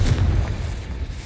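A Confringo spell explosion in Hogwarts Legacy erupts as a short, loud, deep boom with a rumbling low tail.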